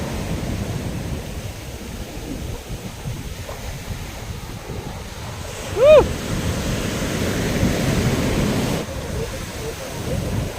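Ocean surf rolls onto a beach where baby turtles are being released, a steady close wash of waves roughened by wind buffeting the microphone, with a brief sharp call partway through.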